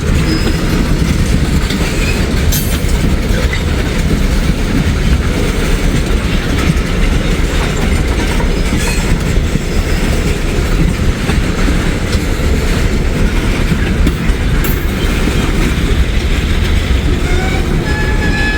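Freight train of tank cars rolls steadily past at close range, a continuous loud rumble with wheel clatter and occasional squeals throughout, no voices.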